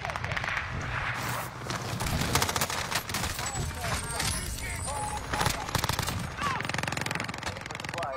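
Dense automatic gunfire and bursts of shots in a video game, loud and continuous throughout, with voices talking over the shooting.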